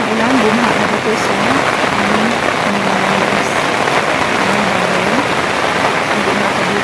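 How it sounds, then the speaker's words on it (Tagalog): Heavy rain pours down in a dense, constant hiss, loud and close, flooding a corn field, while a voice talks underneath it. "sa sobrang lakas ng ulan"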